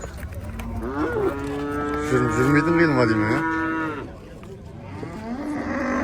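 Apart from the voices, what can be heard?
cows mooing at a livestock market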